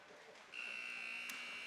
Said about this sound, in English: There is the buzzer to signal the end of the warm-up.